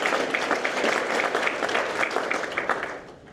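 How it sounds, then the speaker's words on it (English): Audience applause at a graduation ceremony, a dense steady patter of many hands clapping, fairly close, fading out at the end. "And clap."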